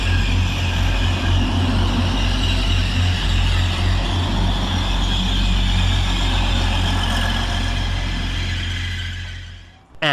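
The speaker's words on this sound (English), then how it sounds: "And rounding the corner is our train" A Class 156 diesel train arriving at Eaglescliffe railway station drones steadily at close range, with a low rumble and broadband roar that fades sharply at the end.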